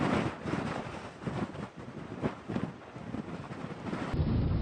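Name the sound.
strong wind in a dust storm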